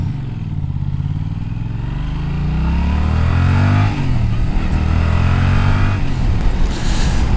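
A 2020 Yamaha Tracer 700 motorcycle engine pulls steadily while riding, its droning note rising as it accelerates and holding loud and close throughout, with wind rush over the top and no talk.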